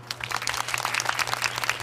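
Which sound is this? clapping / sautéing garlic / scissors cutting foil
clapping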